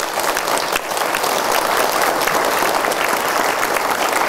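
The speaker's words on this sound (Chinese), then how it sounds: "请给我们所有的义工菩萨们感谢的掌声。" A hall full of people at a Buddhist chanting retreat gives thanks to the volunteers with loud, dense, sustained applause that carries steadily from start to finish.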